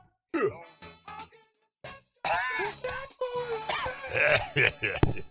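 Several people cough and clear their throats in a rough, overlapping series, close by, with voices mixed in.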